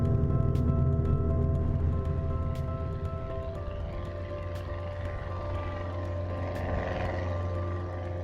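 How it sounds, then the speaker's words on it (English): A propeller airplane cleared for takeoff from runway 25 drones with a steady engine roar, loudest at the start and then holding a slightly fainter, even tone with a low hum underneath, and no voices. "Pick runway 25, cleared for takeoff."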